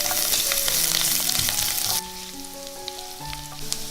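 Ginger, scallion and chili fry in lard in a wok, first with a loud, bright sizzle, then a softer crackle with scattered pops.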